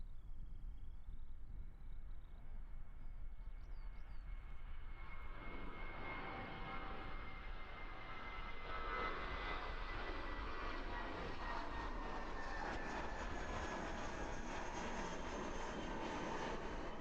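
A Jetstar airliner takes off at Christchurch Airport, a distant whine that builds into a loud, sustained engine roar, with broadband jet noise rolling on steadily for many seconds.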